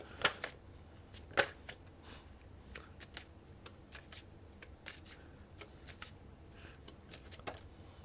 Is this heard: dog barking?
no